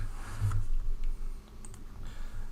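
Computer keyboard typing in a CAD software session, a few soft clicky keystrokes in short irregular bursts over a low background hum, fairly quiet and close.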